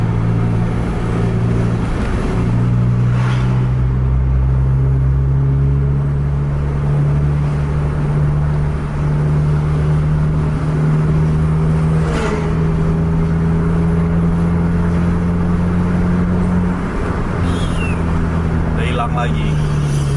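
Two double-decker buses race along a highway, their heavy engines droning loudly and steadily with a rising whine as they accelerate; no speech is heard.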